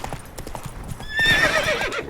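Hooves of Roach, the horse in the video game The Witcher 3, clip-clopping in a steady run with a whinny rising over the hoofbeats midway.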